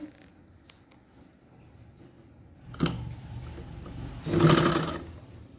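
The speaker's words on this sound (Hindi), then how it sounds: "यहाँ पे हमने बिल्कुल सिलाई लगाना स्टार्ट कर देना है इस तरीके से।" A sewing machine stitches a half collar onto a garment. A faint creak and a sharp click come first, then a short, close burst of rapid mechanical stitching toward the end.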